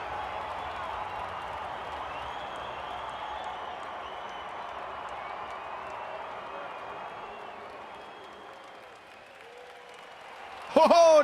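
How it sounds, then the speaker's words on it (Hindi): Stadium crowd at an IPL 2026 cricket match, CSK's second game, applauding a dot ball, a steady broad wash of clapping and crowd noise that dips slightly near the end before a sharp louder burst. "ऐसी गेंद पर सिर्फ तालियां मिलती है, रन्स नहीं।"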